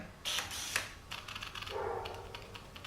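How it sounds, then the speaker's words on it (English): Camera lens motor whirring and clicking as the shutter button is pressed on a camera linked to a Viltrox JY-710 remote, a few quick mechanical ticks followed by a short buzzing drive, faint and close with no talk. "could you hear the sound of the lens changing?"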